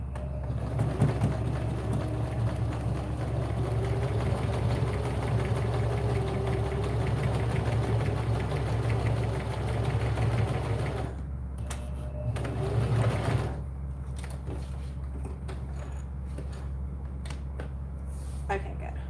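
A sewing machine top stitching close to the edge of cork fabric hums with a steady, rapid mechanical drone that stops briefly and restarts, while a voice talks over it.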